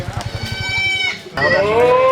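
Goats on a goat farm bleat loudly and close by, with wavering calls overlapping one another and a rapid pulsing patter at the start.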